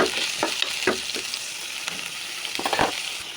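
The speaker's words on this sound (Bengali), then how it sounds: "আমি এখন নাড়াচাড়া করে নেব।" Prawns and onions frying and being stirred in a pan, a steady hiss of sizzle broken by several scraping strokes of the spoon, close and alone without talk.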